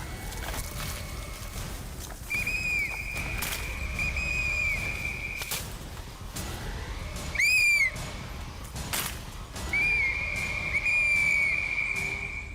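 Loud, sustained human whistling while walking through a forest in Uttarakhand: several long, steady high notes with short breaks between them, and faint footsteps underneath. No talking.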